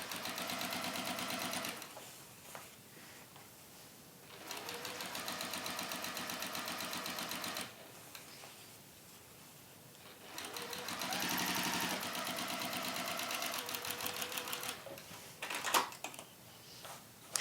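A sewing machine runs in several long bursts of rapid mechanical stitching as it top stitches fabric for a drawstring barre, with short pauses between runs and no talking over it.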